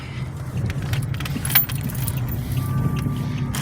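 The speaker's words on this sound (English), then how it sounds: "And I got a car coming up behind me." A car rumbles past close by from behind on a downtown McKeesport street, a steady low engine drone with a brief swell midway, over outdoor street noise and some faint jingling.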